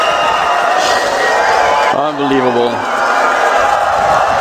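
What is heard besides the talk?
esports arena crowd cheering at PGL Major Krakow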